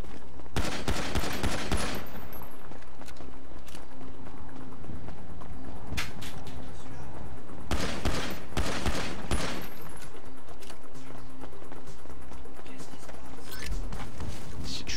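Pistol gunfire in the video game GTA, heard as repeated sharp shots and bursts scattered across the clip, some in quick volleys, mixed with game sounds and background noise.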